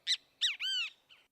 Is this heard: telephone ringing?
no